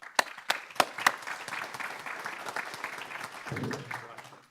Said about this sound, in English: So if we could have a big round of applause for Dr. Kahn.